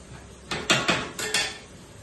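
A metal lid goes onto a pot of cooking dal, giving a short burst of five clinks and clatters in quick succession, fairly close, over a quiet background with no talking.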